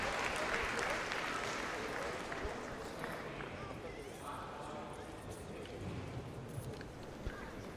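Crowd at a badminton mixed doubles match, faint scattered clapping fading under a commentator's voice and arena noise.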